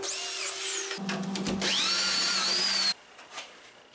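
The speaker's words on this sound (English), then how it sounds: "here I'm drilling dowel holes for attaching the breadboard ends to the tabletop" A power drill boring dowel holes in wood for a tabletop's breadboard ends whines at high pitch in two bursts, with a short pause between, close by; the motor spins down at the end.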